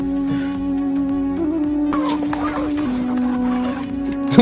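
A chicken clucks and murmurs over a steady droning background, fairly close and loud, with a few sharper squawks breaking through.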